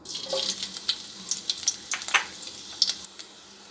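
Ginger and garlic fry in hot cooking oil in a kadai, giving a soft crackling sizzle broken by sharp bursts of spitting and a few stirring scrapes, fairly quiet and close.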